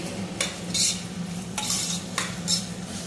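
Fresh green peas stirred in a pan for vegetable pulao: a spoon scrapes and clinks in several strokes over a steady soft sizzle, close and without talking.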